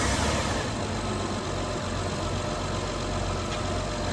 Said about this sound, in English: So I'm gonna start the car now